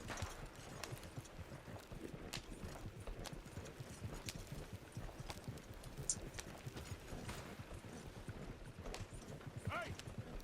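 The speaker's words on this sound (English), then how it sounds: "with only one horse pulling this wagon, not only is it slower, but the handling is worse" Steady clip-clop of a single horse's hooves pulling a wagon along a dirt road in Red Dead Redemption 2, a continuous rhythmic trot with faint rattling under soft background sounds.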